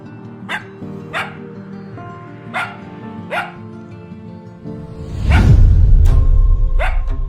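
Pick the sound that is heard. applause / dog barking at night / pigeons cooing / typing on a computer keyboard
dog barking at night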